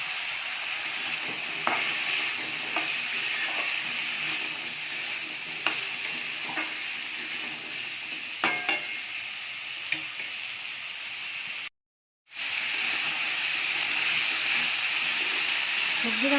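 Meat sizzles while being stir-fried in a pan, a moderate crackling hiss broken by sharp clicks of a spatula against the metal, with a short gap near the end.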